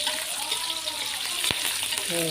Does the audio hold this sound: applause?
no